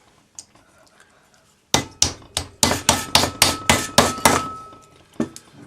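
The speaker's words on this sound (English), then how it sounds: "we'll use our rawhide hammer and tap it on the end of a ring mandrel" A rawhide hammer taps a textured fold-formed metal leaf on the end of a ring mandrel, about a dozen sharp, ringing strikes in quick, even succession after a quiet start.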